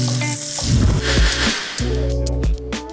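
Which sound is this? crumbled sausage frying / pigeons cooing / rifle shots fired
crumbled sausage frying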